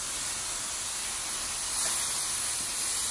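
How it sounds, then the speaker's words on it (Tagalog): Beef frying in garlic and onion gives a steady, loud broadband sizzle that holds evenly throughout and swells slightly near the end, with no talking. "Igisa natin yung karne sa bawang at saka sa sibuyas"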